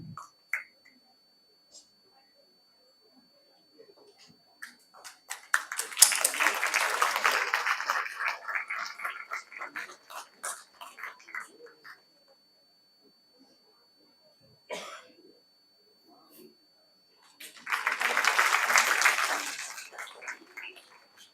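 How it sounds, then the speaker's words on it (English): Audience applause after a nursing education debate at a conclave, with two separate bursts of clapping, a longer one near the start and a shorter one near the end, separated by quiet gaps and a few isolated sounds. "request all of you to give a huge round of applause for the wonderful debate"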